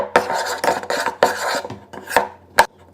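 Shaving cream and baking soda slime being stirred in a bowl, with uneven bursts of scraping and rubbing, close and fairly loud, separated by short pauses, no voices.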